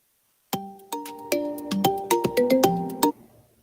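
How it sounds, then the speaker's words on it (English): A phone ringtone for an incoming call plays a short melodic sequence of bright plucked tones, about a dozen notes in a quick rhythm, clear and close, then stops abruptly. "Phone call coming in."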